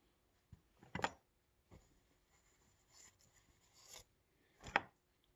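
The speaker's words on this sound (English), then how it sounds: "I'll wipe off some of the excess here so I can use on the bottom" A cloth wipes excess grease off a bicycle headset on a Fuji Feather, making a few short, scattered rubbing strokes with quiet pauses between them.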